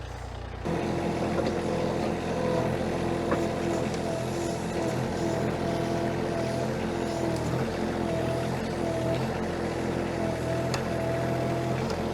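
A Toro Dingo TX1000 compact skid steer runs continuously nearby with a steady diesel drone while lifting a pack of 5'6" stakes, its engine note holding even for the whole stretch.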